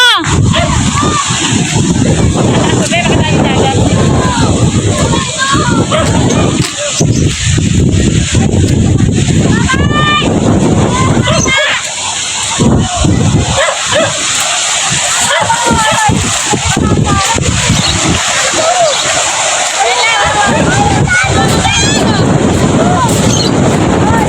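Strong cold wind at Laguna Bay roars and buffets the microphone throughout, with people shouting and talking excitedly over it.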